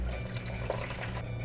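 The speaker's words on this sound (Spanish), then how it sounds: "le voy a poner una taza de agua caliente" Hot water pours steadily from a cup onto gelatin powder in a bowl, a continuous soft splashing and trickling close by with no talk.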